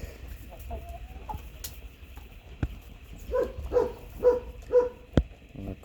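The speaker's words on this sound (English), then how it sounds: "Crazy chicken." A chicken clucks in a short series of four or five close, rhythmic calls at a farm feed container among goats and sheep, with quiet animal shuffling and a few knocks around it.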